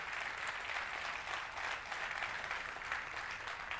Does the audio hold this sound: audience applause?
yes